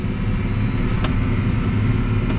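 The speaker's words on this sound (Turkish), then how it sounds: "traktör acayip hızlanıyor yani." A loud, steady engine drone from an accelerating New Holland T7.245 tractor with strong low rumble runs throughout, holding a constant pitch with no voices.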